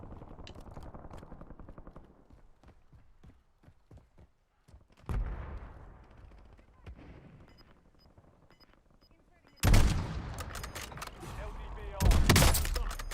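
Gunfire in a shooter video game, with scattered shots and a couple of loud, sharp bursts standing out from quieter background noise.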